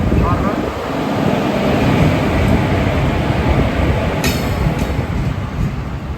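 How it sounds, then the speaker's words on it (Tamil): Madurai–Rameswaram passenger train rolling along, a steady loud rumble of wheels and coach noise filling the whole stretch, with a few metallic clinks near the end and voices faintly under it. "ராமேஸ்வரம் திருப்பதி போகிற வண்டிங்க"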